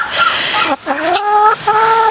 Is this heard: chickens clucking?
yes